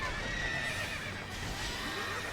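A horse whinnies in the video game Fire Emblem Warriors, a loud, steady neigh lasting a couple of seconds over a dense wash of game battle noise, with faint hoofbeat-like clatter mixed in.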